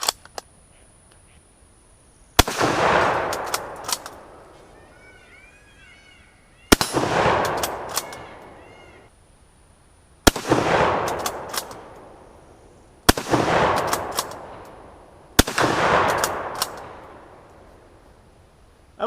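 A rifle fires steel core ammunition downrange in five loud, sharp shots spaced a few seconds apart, each followed by a ringing echo that fades before the next.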